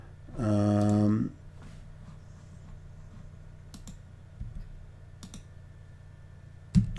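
Computer keyboard keys pressed on a Windows PC: a few sparse, light clicks and taps scattered over several seconds, with a brief hum-like voice sound near the start.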